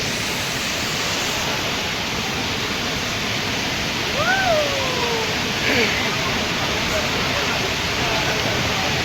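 Savatkada waterfall in Rajapur taluka roars as a loud, constant broadband rush of falling water, with a brief whistle-like call rising over it midway.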